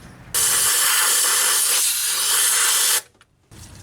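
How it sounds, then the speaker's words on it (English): Compressed air blasts out of a nozzle into the spark plug well of a 2002 Nissan Frontier Crew Cab SE engine. It makes one loud, close, continuous hiss lasting about three seconds, followed by a short faint puff. "I'm going to go ahead and hit this with some air"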